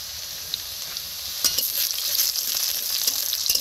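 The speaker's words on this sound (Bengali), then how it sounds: "তেলে এখন দিয়ে দিচ্ছি পেঁয়াজ কুচি, দিয়ে হালকা লাল লাল করে ভেজে নেব।" Chopped onions fry in hot oil in a village kitchen pan, giving a steady bright sizzle that rises in intensity partway through, with occasional stirring clicks and no voices.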